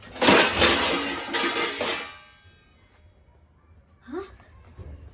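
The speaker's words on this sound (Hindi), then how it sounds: "ये ले बर्तन की आवाज" Metal pots and dishes clatter and clink in a quick burst over the first two seconds, loud and close, followed by near silence and then a brief rising whimper-like squeak.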